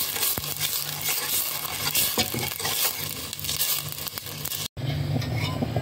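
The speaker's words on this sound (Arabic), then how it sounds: "نزلت بمعلقه صلصه مع الميه المغليه مع معلقه ملح كبيره واقلب كله مع بعضه" A spoon stirs tomato paste, boiling water and a big spoonful of salt together in a cooking pot, a steady scraping and churning that runs continuously and fairly close, with a brief cut near the end.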